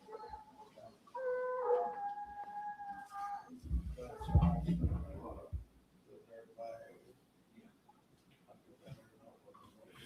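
Dogs howling in the background at an outdoor sporting event, a faint, sustained howl early on and a chorus of distant dog noise, with people talking nearby.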